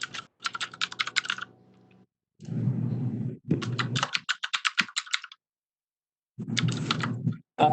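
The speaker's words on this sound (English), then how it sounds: "Hearing only typing" Computer keyboard typing during an online board meeting, coming in quick clattering bursts separated by pauses and some low background noise, with no one speaking.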